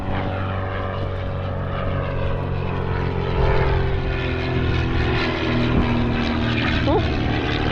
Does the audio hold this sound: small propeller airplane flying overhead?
yes